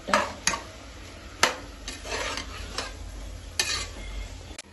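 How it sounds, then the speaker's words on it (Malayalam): Mutton curry being stirred in a pan with turmeric powder, a spoon scraping and rasping in repeated strokes with sharp knocks against the pan, over a faint sizzle, close and with no talking. "മഞ്ഞൾപ്പൊടി ഇട്ട് നല്ല പോലെ ഇളക്കണം എല്ലാം യോജിപ്പിച്ച് നല്ല ശരിക്ക് ഇളക്കണം"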